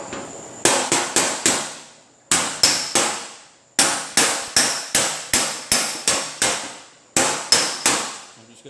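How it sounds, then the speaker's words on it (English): A regular body hammer knocks down a creased ridge on the metal fender of a 2010 Honda Civic sedan: close, loud, sharp metallic blows in quick rhythmic groups of three to six, with short pauses between bursts and no talking. "I'm going to get the regular body hammer, and then I'm going to go back with the rounded end of it and go back over this crease"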